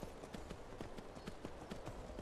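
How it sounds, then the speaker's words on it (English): Steady, even clip-clop of horse hooves on a road in Skyrim Special Edition, a fairly quiet trotting rhythm heard alone without any voices over it. "I found this horse."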